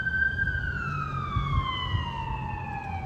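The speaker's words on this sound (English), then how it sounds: "Let that siren go on by. Prayers for the people driving the ambulance" An ambulance siren sweeps past in a steady falling wail, its pitch sliding lower as it moves away over a low rumble of road traffic, loud and continuous throughout.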